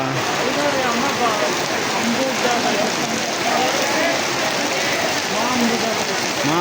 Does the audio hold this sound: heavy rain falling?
yes